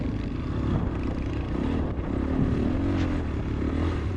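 A dirt bike rides a single-track trail with whoops, its engine a steady, fairly loud drone close to the rider with slight rises and dips and no speech.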